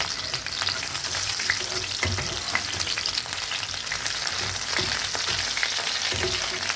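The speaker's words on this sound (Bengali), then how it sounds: "সোয়াবিনগুলো ভাজি।" Soybean chunks fry in a pan of oil for a soya chili dish, giving a steady, close, broadband sizzle with occasional stirring scrapes and pops, and no talking.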